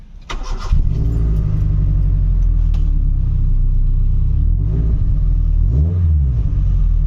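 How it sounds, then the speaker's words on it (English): A Honda City Type 2 with a VTEC engine cranks and fires up, then settles into a deep rumbling idle broken by a couple of quick throttle revs, close and steady with no voices. "Got a quick revving motor."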